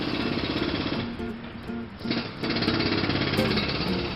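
Steady jackhammer pounding at close range from a shopping mall renovation, rapid and continuous, with a brief dip in the middle before the hammering resumes loudly.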